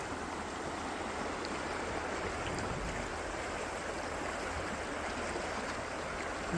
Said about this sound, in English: Gotta see what's around that corner. Yep, pretty big rapids.